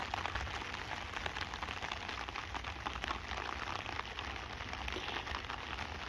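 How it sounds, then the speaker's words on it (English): Steady rain falling on a tarp at a camp on a disused railway viaduct, a continuous dense patter with no voices, even and unbroken throughout. "Well, it's raining now, and it's forecast for the next 4 hours at least."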